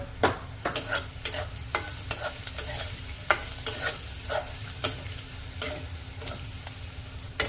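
A spoon scrapes and stirs onions with salt, turmeric, cumin, red chilli and coriander powders in a frying pan, sharp irregular scraping strokes over a soft sizzle, fairly close and with no voices.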